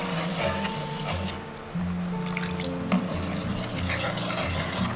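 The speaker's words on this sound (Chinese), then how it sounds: "把汤汁过滤到锅中，接着少量多次的倒入水淀粉。" Starch slurry being stirred into a braising sauce in a wok for braised pork belly, with a soft steady bubbling and scraping texture, a low hum beneath, and a few light clinks of utensil against the pan.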